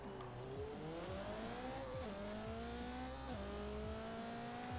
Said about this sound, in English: It's really got some character behind that engine sound.